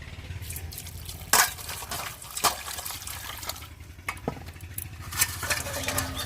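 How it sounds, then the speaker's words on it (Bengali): Cut lata fish are washed in water by hand, with close splashing, sloshing and dripping, plus a few sharper knocks against the vessel, and no talking. "মাছগুলো সব কাটা হয়ে গেছে এবার ভালো করে ধুয়ে নেবো"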